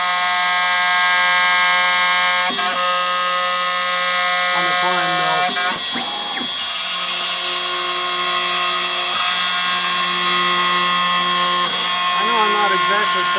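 A DIY CNC mill cutting steel at 600 mm per minute gives a loud, steady high-pitched whine with sustained tonal harmonics, dipping briefly in the middle before resuming.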